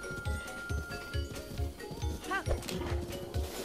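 Horse hooves in the video game Zelda: Breath of the Wild clip-clop in a steady rhythm throughout, close and moderately loud over in-game background sound, with a brief whinny-like call midway.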